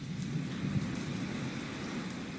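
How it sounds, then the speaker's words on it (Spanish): Heavy rain pours steadily as ambience for a tabletop fantasy roleplaying session, a dense, even wash of drops with a low rumbling undertone and no voices. "La lluvia que está cayendo está apretando más y más."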